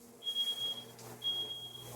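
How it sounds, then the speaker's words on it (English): A smoke detector set off by smoke from an indoor "smokeless" grill beeps in two steady high-pitched bursts, one after the other, against a quiet indoor background with a low hum. "even with the fume hood, going to set off the smoke detectors"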